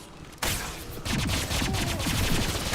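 Gunfire in the video game Mass Effect 2 during a firefight, with a sharp opening shot followed by a dense, continuous stream of rapid weapon fire that stays loud to the end.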